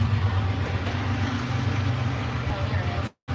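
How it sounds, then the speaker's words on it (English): A passing train near the Ohio River gives a steady low rumble that fills the whole clip at fairly close range, cutting off abruptly just before the end, with a voice briefly audible. "Oh, train."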